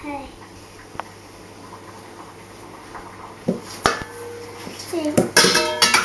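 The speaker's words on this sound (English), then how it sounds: "she is creaming together 100 grams of butter and 100 grams of sugar" Butter and sugar are creamed in a mixing bowl, with scattered scraping, tapping and clinking of a utensil against the bowl that grow busier toward the end, close by and mixed with a voice and other talk.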